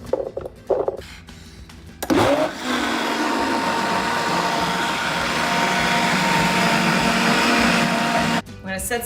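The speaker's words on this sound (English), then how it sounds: "Carrots and sweet potatoes in the blender." A kitchen blender purees carrots, sweet potatoes and chickpeas, its motor starting after brief clatter and then whirring loudly and steadily for several seconds before cutting off near the end.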